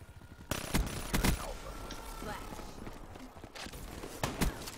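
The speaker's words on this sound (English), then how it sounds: "Shotgun!" Video game shotgun fire sounds as several sharp, loud blasts spaced through a busy mix of in-game clatter and footsteps, with some background voice activity.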